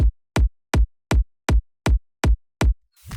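A punchy kick drum sample for the punch layer of a gated kick hits eight times in a steady even rhythm, each short, loud and tight with a sharp attack, followed by a brief noisy tail at the end.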